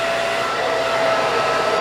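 Blow dryer drying hair while a brush rolls through an A-line haircut, a steady loud whooshing drone with a faint whine held close and unbroken for about two seconds, with no talking.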